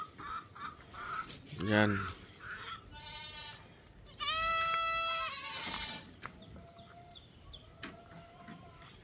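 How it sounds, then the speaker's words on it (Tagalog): Farmyard animals calling at a farm with chickens and goats, with a bleating cry, a loud drawn-out call and scattered shorter clucks and cries nearby, plus a brief spoken word. "Mga manok natin ng doon banda."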